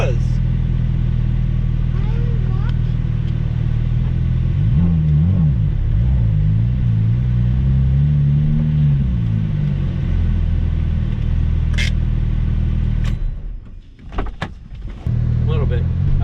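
Audi car rolling slowly into a service center, a steady low engine rumble close by with a gentle rise in revs midway, then a brief drop and some clunks near the end.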